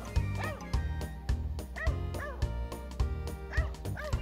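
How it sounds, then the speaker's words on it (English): Two small black and white dogs give rapid, repeated high yips and barks in a steady rhythm, close and loud, with whimpering tones between the barks. "there were two little black and white dogs, Minnie and Radar"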